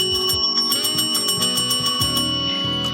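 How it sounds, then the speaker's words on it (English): A "trash bell" sound effect: a bright bell rung repeatedly in a quick, steady rhythm for a few seconds, loud and close with ringing overtones and no talk. "Trash bell for Pornstache."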